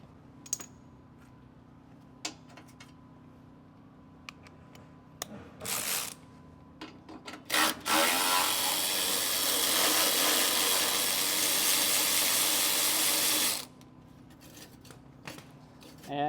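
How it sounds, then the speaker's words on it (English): Loosening the two exhaust clamps on the DOC of a Cummins X15 truck aftertreatment system: scattered small tool clicks and metal taps, then a long, steady, loud burst of hissing power-tool noise lasting several seconds before quieter handling sounds return. "Next thing I'm going to do is go ahead and loosen up the DOC here"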